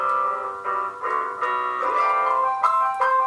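Preschool children imitating a car breaking down with their voices, singing sustained tonal vroom-like notes in short stepped phrases that rise and fall in pitch, several voices together, fairly loud and continuous.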